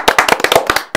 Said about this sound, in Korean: 이렇게 박수를 칠 때가 있고 안 칠 때가 있는데